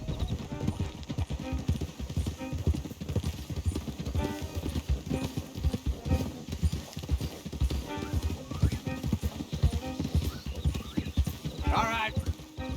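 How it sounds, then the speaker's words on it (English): Horses clop along at a steady walk in the video game Red Dead Redemption 2, dense hoofbeats with an occasional whinny, heard under ongoing conversation. "Don't want the horses clopping around outside the window."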